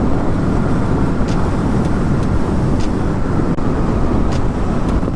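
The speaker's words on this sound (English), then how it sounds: "it's just the wind is just crazy on it" Loud, constant roaring wind rushing past a rider on a Yamaha MT-07 naked motorcycle at speed, a heavy low buffeting that drowns everything else, with no talking.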